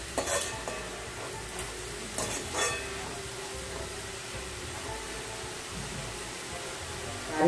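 Salted red amaranth leaves sauté in a pan with a steady, moderate sizzle, and a few utensil scrapes and clinks come early on, close by with no talking.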